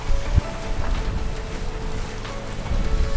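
A sailboat running fast offshore in the open ocean with its engines off, mainsail at the third reef and the jib half out; steady rushing wind and water noise with low wave thumps, close and continuous, no voices.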